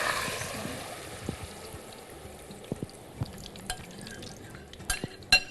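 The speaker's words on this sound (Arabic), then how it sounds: "هنزل بقى بالصلصه" Tomato sauce poured into a pan while cooking Egyptian koshari, a wet sizzling and stirring wash that fades, then scattered clicks and utensil knocks on the pan, close up.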